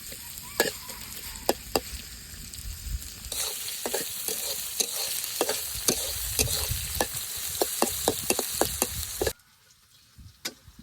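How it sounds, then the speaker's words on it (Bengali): Chopped onion and green chilli sizzle in oil in a wok, with frequent sharp spatula scrapes against the pan; the frying grows louder partway through and then drops almost to silence near the end. "পেঁয়াজ কাঁচামরিচটা ভালোভাবে ভেজে নিই।"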